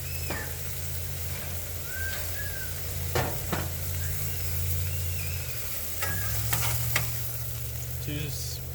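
Metal spatulas scrape and scoop cooked beef tips and food on a Blackstone griddle, giving a few sharp scraping clicks over a steady background sizzle and low hum, close and moderately loud.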